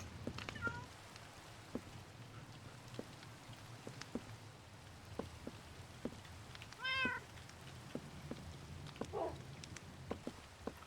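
Light in-game rain in a Minecraft-style video game patters steadily with scattered drop ticks, while a cat meows softly a couple of times nearby.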